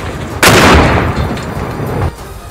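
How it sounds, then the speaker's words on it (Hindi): Houthi fighters open fire while attacking, producing a single loud boom that rolls into a sustained rumbling burst of gunfire lasting about a second and a half before cutting off. "हूथी लड़ाकों ने सामने निशाना साधकर ताबड़तोड़ गोलियां दाग दी"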